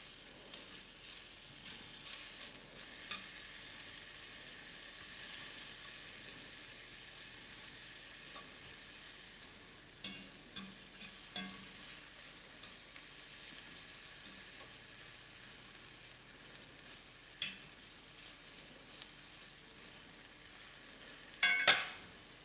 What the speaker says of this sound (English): it's not going to take long at all to saute these onions here